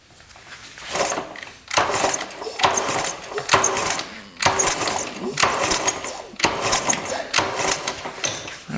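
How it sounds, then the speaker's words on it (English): A 1974 Honda motorcycle engine, found non-running in a barn with oil down the cylinder, is kicked over by hand about seven times in a steady rhythm, each stroke a close mechanical whir and clatter with no firing. "Kick that over a couple times."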